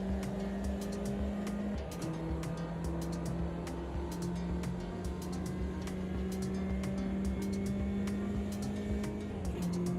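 Race cars in the Automobilista 2 sim racing game run close together in a pack, a steady droning engine tone shifting pitch as the cars draft, with faint tyre squeal and a constant loud roar throughout.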